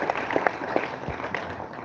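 An audience applauds a professor at the closing ceremony of the Kyambogo University STEAM festival, a short spell of crowd clapping heard beneath some murmuring voices and room noise.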